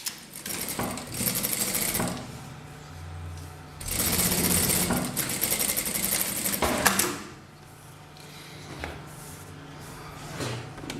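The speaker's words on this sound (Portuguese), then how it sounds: "Passa a costura." Electric sewing machine stitching a seam on fabric scraps, several loud whirring runs of a few seconds each separated by quieter pauses with handling clicks.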